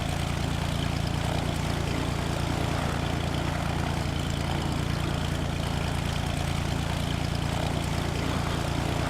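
A propeller airplane's engine drones steadily while taxiing in Flight Simulator X, a loud, constant hum alone for about nine seconds.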